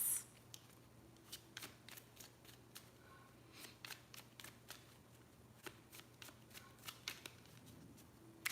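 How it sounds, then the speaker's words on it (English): Oracle card deck being shuffled by hand, a quiet series of crisp riffling and flicking bursts at irregular intervals against a faint steady hum in a quiet room, with no speech. "So this is just a little bit shorter chat. Okay, so let me pick a card for us."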